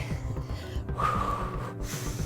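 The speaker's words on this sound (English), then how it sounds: "I'm breathing out through my mouth, in through the nose, trying to get that air in" Heavy, forceful breaths during a jumping cardio workout, close and loud, with a sharp gasping intake near the middle amid the hiss of exertion.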